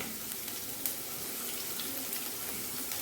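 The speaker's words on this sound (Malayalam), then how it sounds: "എണ്ണ നല്ല ചൂടായി വന്നിട്ടുണ്ട്. അപ്പം നമ്മൾ അതിലോട്ട് ഒരു 8 വെളുത്തുള്ളി, ഒരു കഷ്ണം ഇഞ്ചി, പിന്നെ ഒരു 3 പച്ചമുളകും ചെറുതായിട്ട് അരിഞ്ഞത് ഇട്ട് കൊടുക്കുകയാണേ." Chopped garlic, ginger and green chillies frying in hot oil for a veg manchurian, a steady broadband sizzle held at a constant level throughout.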